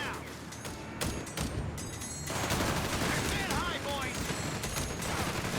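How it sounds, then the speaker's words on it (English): Shotgun and rifle fire crackles in Company of Heroes 3 during a battle between Afrika Korps and US forces, with repeated bursts and scattered shots under continuous commentary. "And the assault with shotguns and riflemen here."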